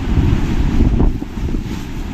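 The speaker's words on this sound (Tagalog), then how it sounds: "Ang lakas ng ulan." Heavy rain and gusting wind batter a balcony during unpredictable UAE weather, a loud, steady roar of rushing wind and rain noise close to the microphone with no talk.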